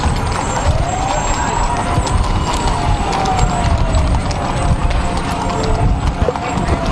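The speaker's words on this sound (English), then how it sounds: "And then the horses, as they come through the screen." Horses clip-clop past in a Christmas parade, the hoofbeats mixed into a constant outdoor crowd and traffic rumble, with a truck engine and people talking nearby.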